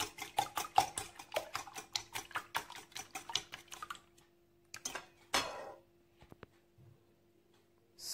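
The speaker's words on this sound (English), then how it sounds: "So I'll mix or beat the egg together." Whisk rapidly beating six eggs and a cup of milk in a pot, a fast steady run of sharp clinks and taps against the metal for about four seconds, then a few scattered knocks and a scrape.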